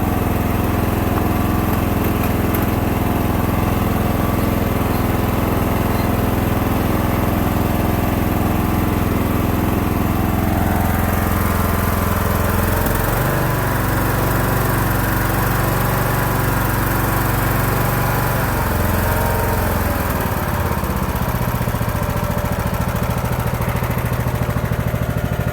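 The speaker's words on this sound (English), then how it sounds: "right now all we know is that the engine now runs" A Cub Cadet LTX1042 lawn tractor engine runs loud and close for the whole stretch, a steady droning idle that briefly dips and recovers in pitch twice partway through, with no talking.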